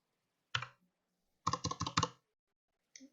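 Computer keyboard keys pressed while entering figures into a VAT tax return form: a single keystroke, then a quick burst of about four clicks, then one more faint tap, close and crisp with silence between.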